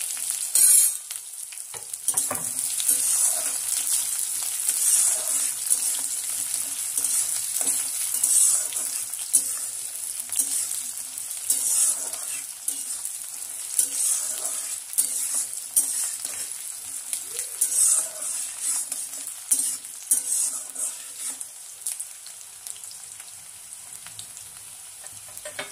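Chopped onions frying in hot oil with whole cumin seeds for ghugni, a continuous crackling sizzle with occasional stirring scrapes, close and steady throughout.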